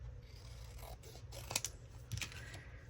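Scissors trim a stamped paper die cut up close, giving a few quiet snips and rasping slides over a faint background hum.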